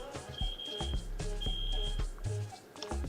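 A smoke alarm beeps in repeated sustained high tones, each lasting about half a second, behind a room conversation with people talking over it.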